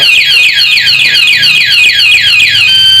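A Honda motorcycle's anti-theft alarm repeats a loud, rapid descending siren-like chirp over and over, close and steady, with no talking.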